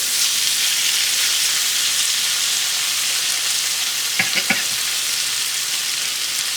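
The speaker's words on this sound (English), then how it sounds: "I'll continue to stir this." Chicken frying in a pan with tomatoes for coconut cream chicken, a loud, steady close sizzle with a few quick scrapes of stirring near the end.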